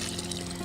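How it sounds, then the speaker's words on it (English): Water flowing from the bottom release valve of a pressurized water pipe at a summer house, a steady close rushing hiss with no breaks. "the release valve from the bottom. You can see the water flowing here."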